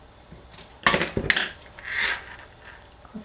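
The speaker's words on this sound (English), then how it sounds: "These scissors are so nice and sharp." Sharp craft scissors cut linen thread for a bow on a handmade card, with a couple of crisp, close snips followed by a soft rustle of paper or thread, and no talking.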